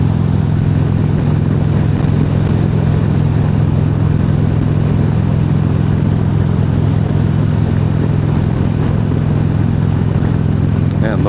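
A motorcycle engine drones steadily while riding on a rural road, a loud constant low hum with wind rush that holds without a break throughout.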